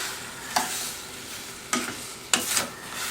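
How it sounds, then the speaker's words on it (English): A wooden spoon stirring berries with sugar and lemon juice in a pot, with a steady soft sizzle throughout and a few brief scraping strokes against the pan. "we're going to stir these berries with this combo of the sugar and the lemon juice until the berries are just tendered"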